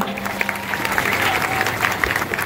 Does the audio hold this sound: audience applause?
yes